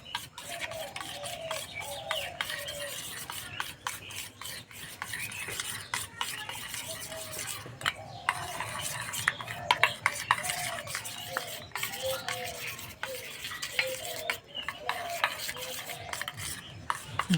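Semolina gradually mixed into an egg batter with salt and fennel seeds, a continuous close scraping and rubbing with rhythmic spoon strokes against a bowl, repeating steadily with occasional clinks.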